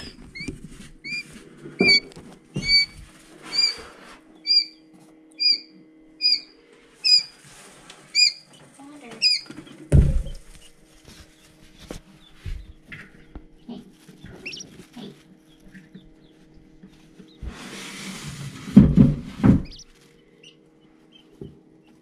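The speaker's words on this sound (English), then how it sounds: "Noisy little quail." Newly hatched quail chicks peep in a regular series of high, thin chirps close by, with soft scratching, shuffling and occasional bumps in between and a louder burst of chirping near the end.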